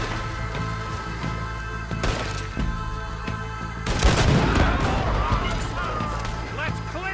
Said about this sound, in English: What the hell is he shooting at?